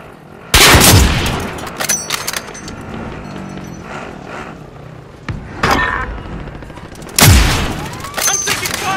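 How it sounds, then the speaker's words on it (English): Video game gunfire in Call of Duty: Modern Warfare Warzone: loud bursts of shots at the start, a smaller volley midway and another heavy burst near the end, with faint background activity between. "I'm taking fire."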